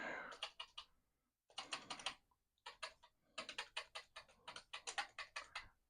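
Keys clatter on a Commodore PET keyboard in need of cleaning, in quick bursts of rapid close-up clicks separated by short pauses.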